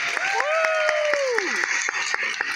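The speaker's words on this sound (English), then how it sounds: "Give them a round of applause," A crowd at an outdoor Lunar New Year farmers market claps in a steady beat for lion dance performers, while a voice carries over the clapping with long drawn-out calls.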